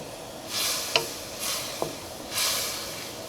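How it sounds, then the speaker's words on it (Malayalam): An egg roast curry bubbling in a pan gives soft, repeated sizzling hisses that swell and fade about once a second, with a couple of small sharp clicks from the pan or spoon. "ഈ കറി നന്നായിട്ടൊന്ന് തിളയ്ക്കാൻ വേണ്ടിയിട്ട് വെയിറ്റ് ചെയ്യാം"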